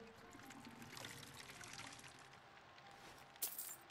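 Water poured into a vessel in Skyrim, a soft, continuous trickling pour that runs quietly for a few seconds, ending in a brief brighter splash or clink.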